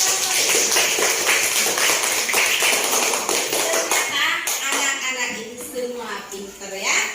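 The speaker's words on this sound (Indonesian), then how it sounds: "Tepuk tangan" Children in an Islamic religious education class in Banda Aceh clap their hands together in quick rhythmic patterns, close and lively, with overlapping voices and chatter from the group mixed in.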